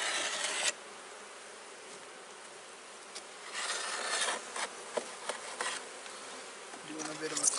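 Honey bees buzz around an opened, healthy hive box, a close swarm drone with individual bees zipping past, plus occasional scraping and rubbing from hive work.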